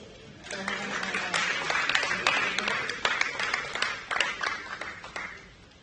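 An event crowd applauds guests being welcomed at a project launch, a sustained wash of many hands clapping that swells, holds with sharper individual claps poking through, then tapers off near the end.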